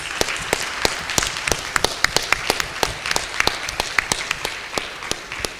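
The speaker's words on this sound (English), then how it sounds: "Can we give our panelists a round of applause?" A conference audience applauds panelists steadily, many hands clapping in a dense, continuous patter with sharper individual claps standing out.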